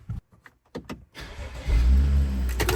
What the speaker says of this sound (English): Run the engine.